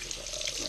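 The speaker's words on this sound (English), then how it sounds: "So right now I'm just gonna wet those little parts a little bit. Try to get some water in there just to loosen it" Water runs from a tap over Traxxas Slash 4x4 rear differential parts to rinse them, a steady hissing splash that lasts the whole short moment.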